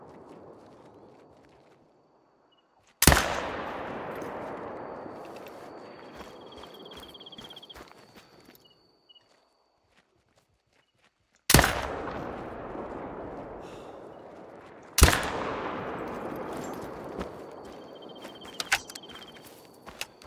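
Three rifle shots from a bison hunt in the game theHunter Call of the Wild, each a sharp loud crack with a long rolling echo, spaced several seconds apart with quiet between.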